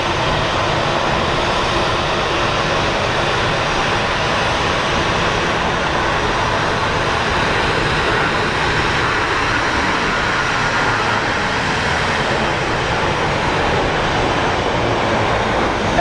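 An airplane at Phoenix Sky Harbor International Airport gives a loud, steady, broadband jet roar that fills the whole span without letting up.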